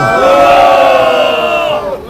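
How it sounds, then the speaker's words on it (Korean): A crowd of North Korean defector supporters at an outdoor press conference in front of the Constitutional Court lets out a loud, sustained collective shout for about two seconds, then the roar fades out. "다시 한번 큰 함성과 박수 한번 해주십시오"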